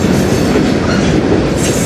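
Short CN freight train of about six or seven cars rolling past close by, a loud continuous rumble with clickety-clack wheel noise and a faint squeal, no voices.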